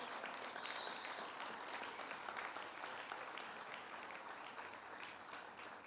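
Audience applause at the Great New York State Fair opening, a steady wash of many hands clapping heard from a distance, fairly faint and continuous throughout with no talk over it.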